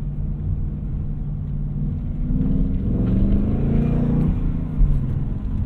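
Raspy V8 exhaust from a 2020 Ford Mustang Bullitt in Sport Plus mode, a close, continuous rumble that swells as the engine revs up midway, then settles back to a steady drone.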